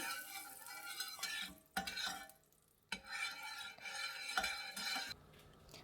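A spoon swirls melted butter around a pan, giving repeated scraping, clinking strokes over a light sizzle, with a short pause midway and close, clear metal contact throughout.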